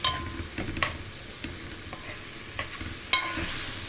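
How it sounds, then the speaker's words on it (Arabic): Onions sautéing and being stirred in a pan, a steady soft sizzle with sharp scraping clicks from the stirring utensil at irregular intervals, fairly quiet and close, with no speech. "ده احنا بنشوح البصل عشان تبقى طعمها حلو كده"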